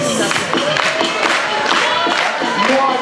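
Crowd noise at a vogue ball, the Cleopatra Ball, with a dense, continuous wash of cheering, shouting and rhythmic clapping over music, loud and close throughout.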